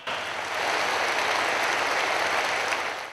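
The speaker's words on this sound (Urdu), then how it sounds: "خواتین و حضرات، آپ کی بھرپور تالیاں۔" Audience applause welcoming a speaker onto the stage at a formal event, a dense, steady wash of clapping that swells in quickly and holds loud throughout with no voices over it.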